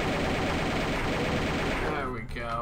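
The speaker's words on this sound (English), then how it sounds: "Let's bolt them to death. Chain gun." Chain gun firing in the game Doom II, a loud, dense, rapid stream of shots that continues unbroken, with only a slight dip near the end.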